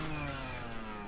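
A trials motorcycle engine at an urban playground trials event, a steady mid-pitched drone holding evenly for about a second, moderately loud with no voices over it.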